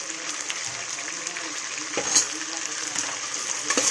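Mint leaves fry with garlic paste in a pan, giving a bright, continuous sizzle, close and moderately loud, with occasional stirring scrapes.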